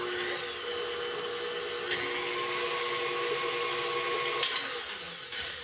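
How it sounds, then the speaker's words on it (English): Stand mixer whirring steadily as it quickly combines sourdough sandwich bread ingredients, a continuous high motor whine with a few brief pitch shifts, close and loud, with no talking. "Alright, I'm going to give that a quick mix."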